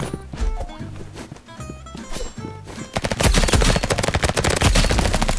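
A paint gun fires in the Roblox game Rivals, rapid repeated shots with clattering game effects, sparser at first and then a dense, louder burst of fire.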